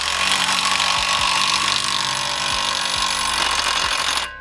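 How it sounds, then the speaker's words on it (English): An impact driver with a 19mm deep socket drives an ARP extended wheel stud in a loud, continuous buzzing hammer with rapid regular impacts, then cuts off abruptly near the end. "I'm just putting it on my impact driver"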